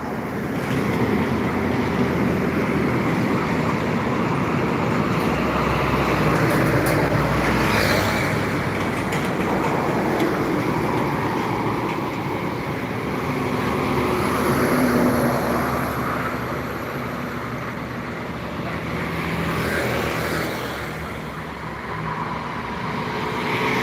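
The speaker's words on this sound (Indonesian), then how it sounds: "Masih menunggu bus yang melintas dan truk yang melintas arah Pulau Jawa dan arah Sumatera." Buses and trucks pass on a highway near Palembang heading toward Java and Sumatra, making a loud, continuous roadside roar that swells and fades as heavy vehicles go by.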